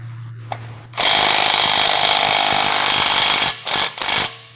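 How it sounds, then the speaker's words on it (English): A large electric impact wrench fitted with a 32mm heavy-duty socket and drive adapter hammers loudly and continuously as it tightens the CV axle shaft nut on a 2015-2018 Ford Fusion, then stops and gives two short final bursts. "Using the large electric impact wrench, with a 32mm heavy-duty socket and 1/2 to 3/4 drive adapter, tighten the CV axle shaft nut"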